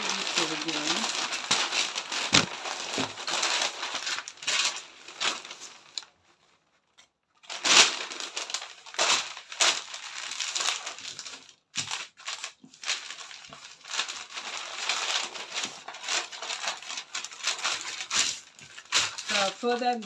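Paper for a peplum skirt pattern is handled and folded again, making repeated close crinkles and rustles with short pauses in between.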